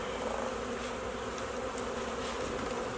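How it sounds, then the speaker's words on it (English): A package of honeybees being shaken into the bottom of a hive makes a dense, continuous buzzing hum, loud and close with no talking. "And then I'm going to shake the rest of the bees, as many as I can get out, into the bottom"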